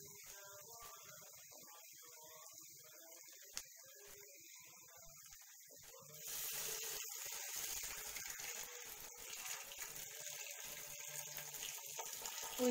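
Hot water is poured from a kettle or tap over meat and spices in a pot for a kabsa. After a quiet stretch, a steady, close stream of pouring water starts partway through and continues to the end.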